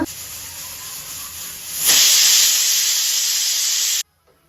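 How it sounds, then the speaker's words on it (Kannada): A pressure cooker cooking one-pot egg biryani vents steam in a loud, close hiss that swells into a stronger whistling blast halfway through and stops abruptly after about four seconds. "ಇನ್ನೊಂದು ವಿಸಿಲ್ ಬಂದಮೇಲೆ ಇನ್ನು ಆಫ್ ಮಾಡಿಬಿಡೋಣ"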